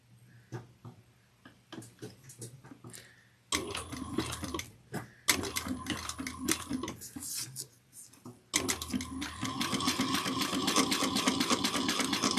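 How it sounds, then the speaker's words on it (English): Sewing machine top stitching around a drawstring satchel, starting with slow sparse needle taps and then breaking into longer, louder runs of fast stitching up close. "Now we're going to top stitch this at 1/8 of an inch all the way around."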